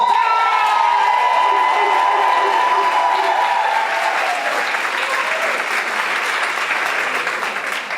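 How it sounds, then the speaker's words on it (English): Audience applause at a live poetry play, sustained clapping with cheers and whoops from the crowd, loud and continuous for several seconds while a tonal sound fades early on. "Can I get a round of applause"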